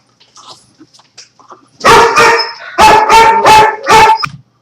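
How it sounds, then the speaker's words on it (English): Several dogs barking loudly in close, repeated bursts during a thunderstorm, a few sharp barks in quick succession after some quieter rustling and faint yips. "sorry about the dogs"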